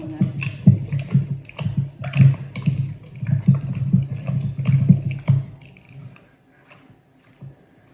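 Peanut chutney ground by hand in a stone mortar with a little water added: wet, rhythmic squelching and thudding close up, which slows and fades to near silence toward the end.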